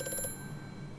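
Old-style telephone ringing inside Amnesia: A Machine For Pigs, a brief ringing burst with repeated tone pulses at the start fading into a low ambient drone.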